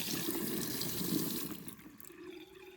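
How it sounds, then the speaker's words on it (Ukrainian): Water running from a hot outdoor summer shower, a steady splashing rush that fades away about halfway, leaving faint trickling and a low hum. "А, ну і водичку зараз включу, покажу, як тече."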